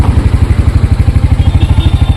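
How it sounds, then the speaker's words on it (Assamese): A motorcycle engine chugging loudly up close with a fast, even rhythmic thump, running steadily as if just started and idling. "বহুদিন পিছত বাইকখন ষ্টাৰ্ট কৰি"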